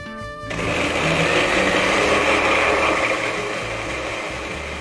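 A blender whirs steadily as it beats a bread batter of warm milk and yeast. The motor hum is loud, close and continuous, and it eases slightly near the end.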